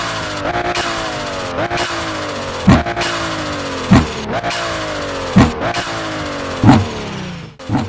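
Car engine in the Assoluto Racing video game while drifting, repeatedly revving up in rising sweeps with brief drops between shifts, loud and continuous.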